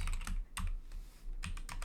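Quick bursts of close, crisp key clicks from someone typing on a computer keyboard in a quiet room, with short pauses between them.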